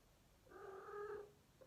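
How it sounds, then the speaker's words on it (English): A house cat lets out one drawn-out, tonal meow lasting about a second, quiet and somewhat distant in an otherwise calm indoor room. "sorry about the cat, everyone"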